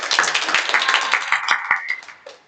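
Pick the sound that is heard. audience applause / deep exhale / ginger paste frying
audience applause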